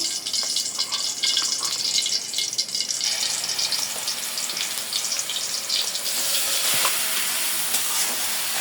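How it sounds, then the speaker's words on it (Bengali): Onion paste sizzles loudly in hot oil, a steady bright frying hiss that continues throughout with little change, close and without talk. "তেল গরম হয়ে গেছে আমি বাটা পেঁয়াজ দিয়ে রান্না করবো আজকে"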